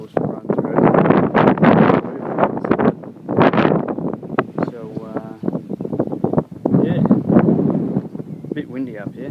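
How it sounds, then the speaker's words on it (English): Gusty wind buffets the microphone in heavy rumbling bursts on a rooftop while installing solar panels, and a voice speaks intermittently underneath. "Bit windy up here."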